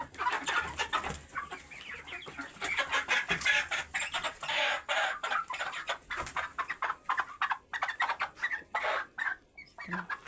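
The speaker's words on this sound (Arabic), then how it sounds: "الفراخ اهو يا حبايب قلبي" Hybrid farm hens on a rooftop coop cluck and squawk in a busy, continuous chorus, close by and fairly loud, with overlapping calls throughout.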